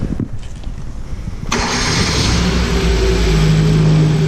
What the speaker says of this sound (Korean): 꽂아놓고 시동 걸어볼게요.